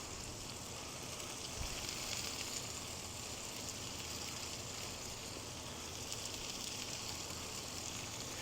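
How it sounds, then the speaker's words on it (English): Butter lettuce rinsed under running water beside a griddle during a smashburger cook: a steady, even hiss of flowing water that holds at the same level for the whole stretch, with no talking. "you wanna make sure is to wash off your butter lettuce"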